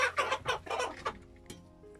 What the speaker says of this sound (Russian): Это орловская ситцевая порода кур.